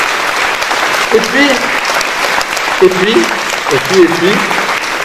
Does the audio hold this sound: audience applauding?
yes